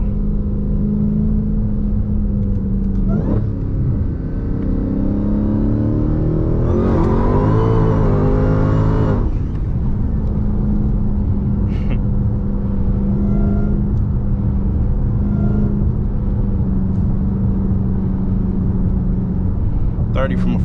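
A Dodge Hellcat accelerating hard in a 30 mph roll, a loud, close engine rumble that surges into a rising roar of revs for a few seconds before easing back into a steady drone, with someone talking over it.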